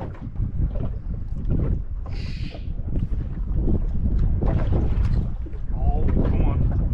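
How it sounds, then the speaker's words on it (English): Wind blowing hard over a small fishing boat out at sea, a steady loud rumbling gust noise buffeting the microphone throughout, with faint water and boat sounds underneath. "this is most certainly the last drift because that wind is coming in a little bit"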